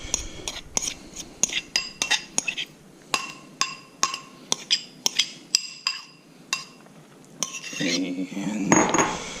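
A metal spoon scrapes and clinks repeatedly against a bowl while scooping out diced cilantro and peppers, sharp close taps in an uneven rhythm, ending with a softer rustling mix.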